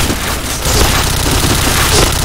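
Grenade blast and rapid gunfire in a tactical shooter game, loud dense bursts of shots and booms crowding the whole moment with no talk.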